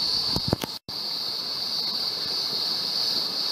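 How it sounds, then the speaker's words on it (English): Steady rush of a stream running higher than normal, continuous and fairly close, with a brief gap and a few faint knocks near the start. "the water's running a bit more than normal"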